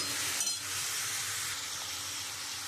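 Spiced kidney bean curry with fried potato and meat cooking down in a pan, a steady close sizzle and hiss throughout with a faint clink near the start and no talking.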